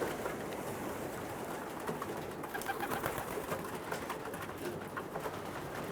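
Pigeons at a racing pigeon loft give soft, steady cooing and rustling throughout, a dense near chorus with no talk over it.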